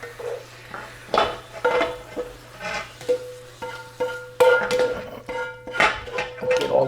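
Zucchini and onions cooking in a pan, a low sizzle beneath repeated scrapes and knocks of a utensil stirring against the pan, irregular and close.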